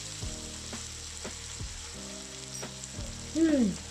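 Chicken breast frying in butter in a pan, a soft continuous sizzle with several dull thumps and scrapes as pieces are turned, near and fairly quiet, ending in a short clatter.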